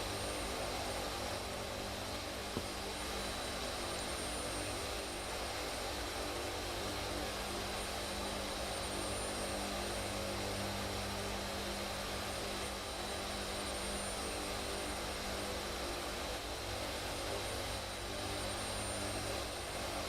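The engines of a C-130 Hercules in a flight simulator game make a steady, loud propeller-turbine drone that stays unbroken throughout, with no talking over it.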